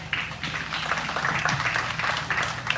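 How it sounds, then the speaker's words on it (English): Steady crowd clapping fills an arena at a Cimarron County junior livestock show, a brisk patter of many hands with scattered sharper claps, moderately close and continuous throughout. "Let's give those kiddos a round of applause."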